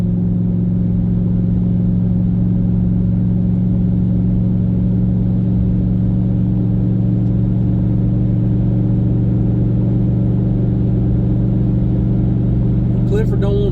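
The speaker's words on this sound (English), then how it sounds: "we're driving on smooth pavement" A car drives on smooth pavement with a steady low engine and road hum, continuous and close inside the cabin, while a person talks over it.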